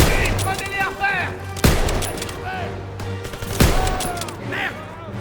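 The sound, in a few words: machine gun fire in Call of Duty WWII video game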